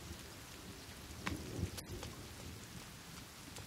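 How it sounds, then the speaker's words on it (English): Rain falls in the survival video game The Forest as a faint, steady hiss of drops, with a couple of slightly louder splashes or rumbles partway through and no talking. "But it's raining, why aren't we getting washed that way?"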